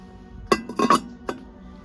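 Ceramic chicken-shaped container with a lid being handled, giving a few light ceramic clinks and taps: one knock, a quick double clink, then a last tap, close and quiet with no voices.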